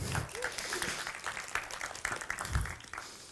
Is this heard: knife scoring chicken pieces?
no